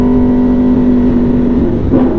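An Aprilia Tuono V4 motorcycle revs hard with a steady, droning engine note that climbs briefly near the end, loud and close with no talk.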